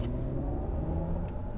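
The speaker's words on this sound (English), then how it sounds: "That sounds very much like a combustion car, but still electric. A nice kind of gargly power build-up." Synthetic electric drive sound from a Mercedes EQE SUV in its default Silver Waves setting, a steady low, gargly engine-like hum with a broad rumble, fairly quiet and continuous without speech.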